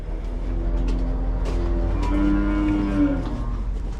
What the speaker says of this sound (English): Hungry moo cows.